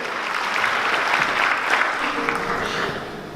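A church congregation claps in unison during a Spanish-language service, a loud, continuous wash of applause filling the room for a few seconds, with murmuring voices beneath.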